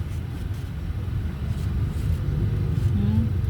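Road traffic near a beach: a low, steady rumble of passing vehicles at moderate distance, swelling slightly toward the end.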